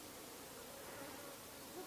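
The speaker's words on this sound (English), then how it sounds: "I've had an occasional bee wander back here, probably because they smell the honey, and they just kind of come up and buzz me" Bees buzzing near a Flow Hive during a honey harvest, a faint steady drone of wings under a hiss of background noise, with no talking.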